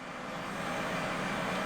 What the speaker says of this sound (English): we're gonna put the landing gears down